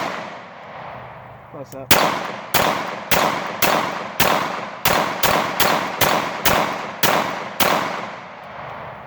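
A CZ 75 SP-01 Tactical pistol fires about a dozen loud, sharp shots at targets in a steady, slightly uneven rhythm outdoors, with a brief spoken remark near the start.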